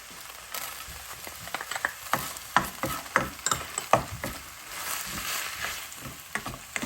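Garlic sautés in a pan for beef with ampalaya, with a loud, close sizzle and rapid, busy scraping and stirring strokes throughout.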